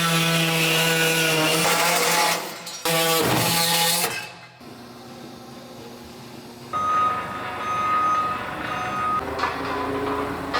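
Power tools cut through a car cab floor in a shop, with loud grinding and sawing bursts that stop and restart, followed by steadier tool whine and shop clatter.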